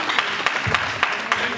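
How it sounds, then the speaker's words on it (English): Audience applause at a talk or lecture, a continuous wash of clapping broken by a few sharper, louder claps and a low thump, with no one speaking. "Please, a big round of applause."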